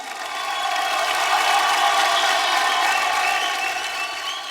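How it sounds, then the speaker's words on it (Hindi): Studio audience on a televised Indian talent show cheering and clapping, a dense sustained crowd roar that swells and holds steady throughout, with no voices clearly standing out. "इन सब के लिए जोरदार ताली।"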